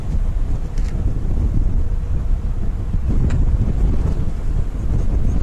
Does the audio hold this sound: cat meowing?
no